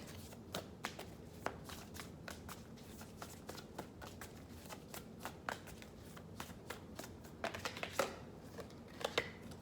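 Angel Wisdom oracle cards being shuffled by hand at close range, a steady run of quick papery riffles and slaps building to a brisker burst near the end, with no talking.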